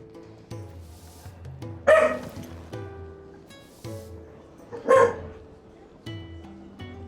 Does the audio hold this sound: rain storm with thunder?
no